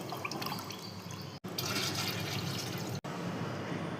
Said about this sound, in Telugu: బకెట్ వాటర్లో ఇలా కూరగాయలు వేస్ట్ వాటర్ అంటే ఫైవ్ డేస్ మగ్గించిన వాటర్ని దీంట్లో పోసుకొని